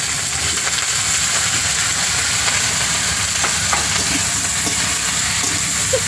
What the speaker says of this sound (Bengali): ফুলকপিটা একটু লাল লাল করে ভেজে নেব।